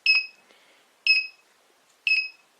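A GSM alarm system panel sounds its entry-delay warning: three sharp, high-pitched electronic beeps spaced about a second apart, clear and close in a quiet room.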